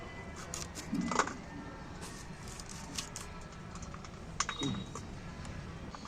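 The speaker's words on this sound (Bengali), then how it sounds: "এইভাবে চাকা চাকা করে ফুলকপিগুলো কেটে নেব" A knife cuts cauliflower into thick round slices, giving a few soft crunching cuts and light taps against a board, quiet over faint room noise.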